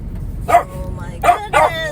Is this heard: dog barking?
yes